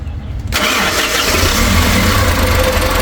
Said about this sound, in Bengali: গাড়িটা স্টার্ট করে একটু সাউন্ডটা দর্শক দেখাই